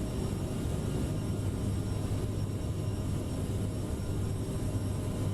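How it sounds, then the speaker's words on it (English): Steady droning hum and rumble of an Aerosoft CRJ airliner's jet engines cruising in a flight simulator, constant low tone with a faint high whine, heard alone without variation. "Let me turn up the sound in my headphones a little bit and see how good the airplane sounds."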